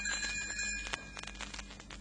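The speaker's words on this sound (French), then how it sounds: "Elle fera tinter ses petites cloches comme ceci." Small bells tinkle as a page-turn signal in a French storybook recording, with bright ringing tones that shimmer and fade over about two seconds, clear and close.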